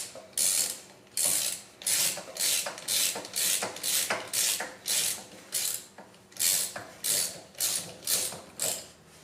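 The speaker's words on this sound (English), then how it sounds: "it will require a 6mm Allen wrench to tighten this back down." A 6mm Allen wrench tightening a motor bolt on a Q6 Edge power wheelchair gives a close, rhythmic ratcheting, about eighteen quick clicking strokes in steady succession with short pauses between.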